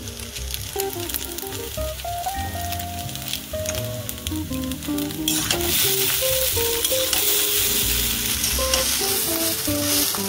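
Maggi noodles frying in a pan as masala is stirred in, a steady hiss of sizzling under loud background music, the frying noise swelling brighter and louder midway through.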